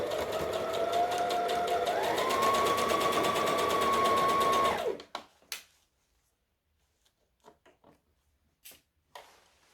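A sewing machine stitches a top made from Butterick pattern B5655, running in one steady, loud burst for about five seconds, then stopping; a few faint clicks and handling sounds follow in near silence.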